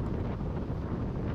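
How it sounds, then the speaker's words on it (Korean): Strong wind blows along the Aewol coastal road in Jeju. It is a dense, steady rush that buffets the microphone throughout, loud and close, with no voices. "어디 가나 하여튼 바람 불고 바람 소리는 아주 그냥 와"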